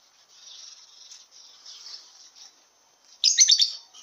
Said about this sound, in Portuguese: Minha criação de periquito australiano.